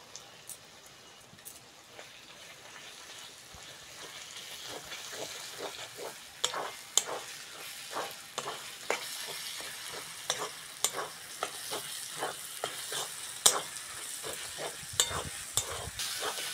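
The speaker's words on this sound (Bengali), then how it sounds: "মশলার সঙ্গে কচু পাতাটা ভালো করে কষে নেবো।" Boiled taro leaves are stir-fried with spiced chicken masala in a pan, a soft sizzle under repeated scraping and clacking strokes of the spatula that grow busier and louder as the stirring goes on.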